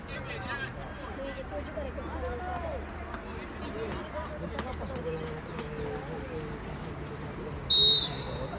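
A referee's whistle gives one short, sharp blast near the end, awarding a penalty kick in an Under-16 youth football match between Vis Palermo and Villabate. It rises above steady crowd noise and continuous commentary.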